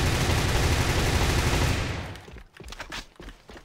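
Sustained automatic weapon fire in the online shooter AVA, a dense continuous burst for about two seconds that cuts off, followed by scattered single shots and clicks.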